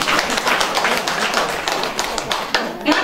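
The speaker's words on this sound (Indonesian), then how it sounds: "Tepuk tangan dulu." An audience claps at a campaign rally for a women's Golkar Party candidate for a regency council in Lembata, a dense burst of close, steady hand claps running throughout and fading slightly near the end.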